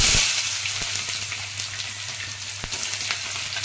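Onions, green chillies, chana dal, urad dal and curry leaves sizzle steadily in hot oil in a pan, a close, continuous crackle with occasional sharper pops and stirring clicks.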